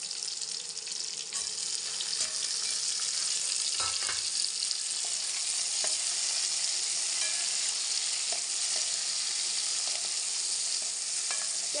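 Browned onions and tomatoes fry in a pan with a loud, dense, unbroken sizzle and a few faint stirring knocks, close up and without voices.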